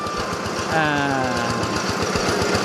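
An engine-driven rig drills a second water-well borehole for villagers, a steady rhythmic chugging and knocking that runs throughout while someone talks over it.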